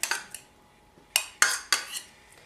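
A spoon clinks against a bowl while carrot and pomegranate seeds are mixed into raita, a few sharp scrapes and taps spaced irregularly, close and fairly quiet.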